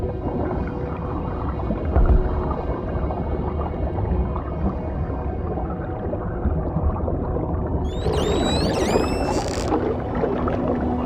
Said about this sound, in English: These whales.